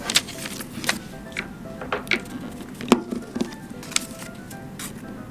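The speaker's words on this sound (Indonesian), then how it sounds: "ini akan kita gunting" Scissors snipping through folded paper with scattered crisp cuts and rustles, close and moderately quiet, no voices.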